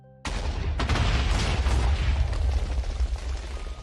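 A Minecraft explosion bursts suddenly after a brief quiet moment, then a heavy, rumbling blast and crackling debris roar on for several seconds.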